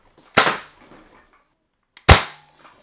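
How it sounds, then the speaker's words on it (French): A Nerf toy gun fires two sharp pops, about a second and a half apart, each with a short fading tail, close and loud with quiet between them. "J'ai acheté un Nerf."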